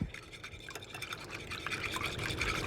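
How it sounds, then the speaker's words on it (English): Eggs are whisked in a bowl, a quick wet clicking and sloshing that stays fairly faint and close, with no talk. "So give these a nice little whisk."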